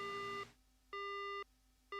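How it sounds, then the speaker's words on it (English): Dead phone line tone in the horror game Spirit Hunter: Death Mark, three clean repeated electronic beeps, each about half a second with short silent gaps, quiet and alone. "The phone goes dead."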